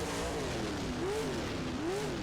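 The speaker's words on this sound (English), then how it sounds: "I'm just locking up all the wheels." Race car braking hard with all four wheels locked, a faint rising and falling tire squeal over steady engine and road noise.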